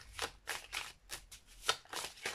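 An oracle card deck is shuffled by hand in a run of soft, quick riffling bursts, about eight in a steady rhythm, close and quiet.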